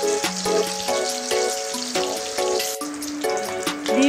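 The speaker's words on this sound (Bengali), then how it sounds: "ডিমগুলোকে আমি হালকা ভেজে নেব।" Eggs fry lightly in oil for an egg korma, giving a steady close sizzle and crackle while a tonal melody plays softly underneath throughout.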